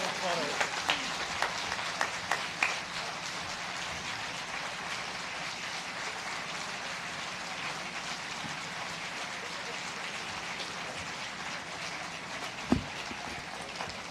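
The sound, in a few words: audience applause for museum donation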